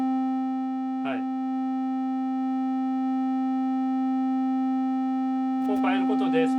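A Computone Lyricon wind synthesizer holds one steady, buzzy note rich in harmonics, its timbre shaped by blending the F1–F5 knobs. A brief voice cuts in near the start and again over the last second.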